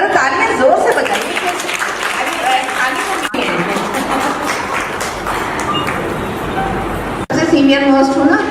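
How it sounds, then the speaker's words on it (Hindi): An audience at an annual celebration applauds in a sustained round of clapping, mixed with crowd chatter and voices talking over it, with a brief break partway through. "जरा तालियां जोर से बजाइए।"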